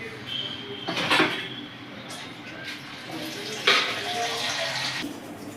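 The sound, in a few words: water being poured into fish curry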